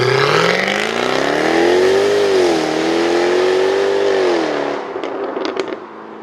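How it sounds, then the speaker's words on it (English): A Jaguar F-Type's rasping exhaust howls loudly and close as the engine revs up and holds high, with rising and dipping pitch, before dropping away into a lower burble with a few crackles. "we work very hard to deliver a very powerful, rasping exhaust note on these cars"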